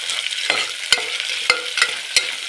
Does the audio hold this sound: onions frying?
yes